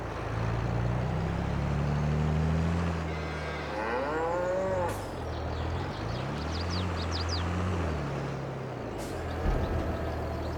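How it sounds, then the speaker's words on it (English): Dairy cattle in the farming video game Farming Simulator 22 moo repeatedly over a steady farmyard ambience, several long drawn-out lowing calls at close range, with no talk over them. "Look how many dairy cattle we've got."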